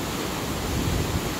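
A waterfall in Kumrat Valley, Pakistan, rushes as a dense, steady roar of falling water, close and constant through the short stretch with no voices.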